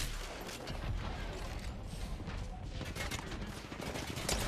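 Dense automatic gunfire rattles through a chaotic Apex Legends firefight, with rapid bursts layered over mechanical clatter and muffled voices in the background.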